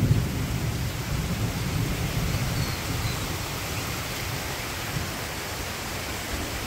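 Rain falling over a village in Bangladesh, a dense steady hiss of downpour with a low rumbling undertone of distant thunder, loudest at the start and then holding even.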